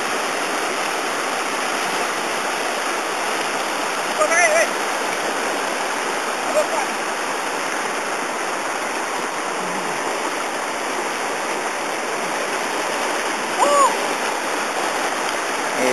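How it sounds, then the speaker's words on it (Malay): River rapids on a jungle fishing expedition, a constant dense rush of water filling the whole clip at steady loudness, with a few brief faint splashes. "Melepasi jeram, salah satu jeram dalam ekspedisi memancing kelah di sungai yang kami rahsiakan."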